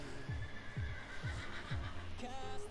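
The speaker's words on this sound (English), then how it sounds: "there's a horse." A horse in the Minecraft video game gives four short, evenly spaced neighs over a soft background hum, fairly quiet, followed by a brief game chime.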